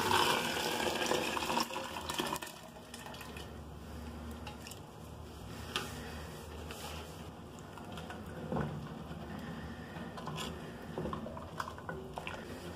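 Cooking water from boiling mocotó is poured into the pot of sautéed mocotó for broth, a splashing, gurgling pour that starts loud and then settles into softer sloshing and occasional clinks of pot and utensils, with no talking.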